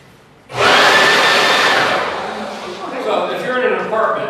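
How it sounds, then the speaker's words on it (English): A servo blower switched on indoors, a sudden loud broadband roar that holds steady for several seconds before easing slightly, with some background activity underneath. "I'm going to turn the servo blower on, so you get an idea of what this sounds like"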